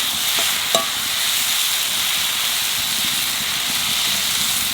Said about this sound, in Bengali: মশলাটা ভেজে নিয়েছি, এবার নামিয়ে নেবো